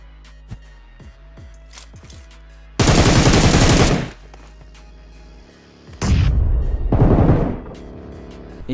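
Gunfire in the BGMI (PUBG) mobile battle game: two loud, sustained bursts of rapid automatic fire, each roughly a second long, split by a brief lull with faint clicks and game effects, with no talk.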